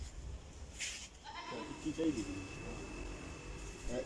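A goat bleats a couple of times at a rural gathering in Mansehra, short wavering cries over background chatter and crowd noise.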